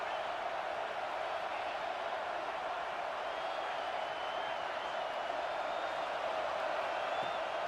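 A stadium crowd roars steadily through a 4th-down play in a college football video game with South Carolina, a dense, continuous wash of cheering and noise held at an even level from start to finish.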